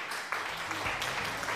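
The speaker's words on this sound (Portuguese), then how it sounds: "O Edilson mandou o aplauso aí." Applause effect triggered from a crypto livestream chat, a short burst of dense clapping running steadily for the whole moment at moderate level, with a faint hint of voice behind it.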